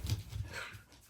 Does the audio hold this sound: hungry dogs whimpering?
yes